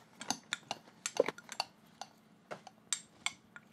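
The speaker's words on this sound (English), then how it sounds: "And then I'm just literally gonna mix that up." Panko breadcrumbs are stirred into melted butter in a bowl, heard as a quick series of light utensil clicks and taps scraping against the dish, close and quiet.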